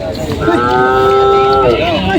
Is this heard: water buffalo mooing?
yes